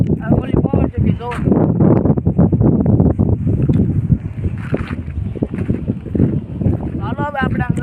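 Wind blows by a village lake, rumbling and buffeting the microphone in a continuous gusty roar while people talk nearby.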